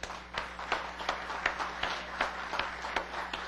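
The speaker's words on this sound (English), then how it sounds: "We get a quiet another round of applause." A church congregation gives a quiet, steady round of applause in a reverberant room. Soft, dense clapping continues throughout with no speech over it.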